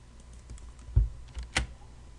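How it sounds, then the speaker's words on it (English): A few scattered keystrokes on a computer keyboard while a message's title and subject are being typed. The taps are close and moderately loud, with no talking. "you can type in anything in the title and subject you want to type in"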